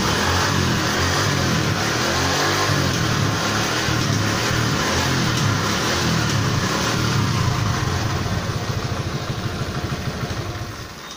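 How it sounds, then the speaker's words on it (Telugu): A TVS Super XL 100cc motorbike engine runs steadily after a carburettor filter cleaning, a close, continuous mid-pitched putter with slight revving swells and no talk. "బండి స్టార్ట్ అయిపోయింది."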